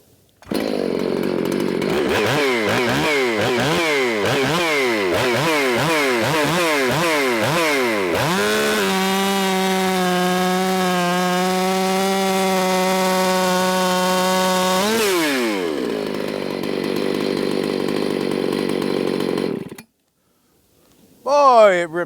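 A Husqvarna 281 XP chainsaw, built by Cajun Work Saws, revs loudly in repeated surges, then bogs into one long, steady cut through wood, hitting a knot, before winding back up and idling down.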